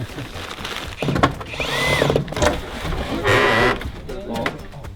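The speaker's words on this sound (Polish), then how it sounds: "Daj małą wkrętarkę." A small cordless drill-driver whirs in bursts of a second or so at a building site, with sand, foil and wooden boards around, the motor rising and stopping several times, close and fairly loud, amid background voices and knocks.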